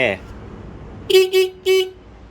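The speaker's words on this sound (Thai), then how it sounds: "เสียงแต่" Horn of a Honda Nova-S motorcycle being tested in a workshop, three short electric beeps in quick succession, close and loud, right after a brief spoken word.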